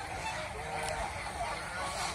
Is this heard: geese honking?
yes